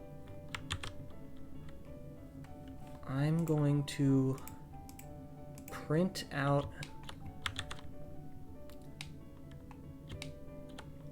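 Quick, crisp keystrokes clatter on a split gaming keyboard in bursts of typing, close to the microphone, while someone talks over them.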